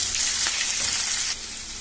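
Onion, green chilli and vegetables sizzle steadily in hot tempering oil seasoned with mustard seeds, cumin, urad dal and curry leaves, a loud, close, continuous frying hiss with no talking.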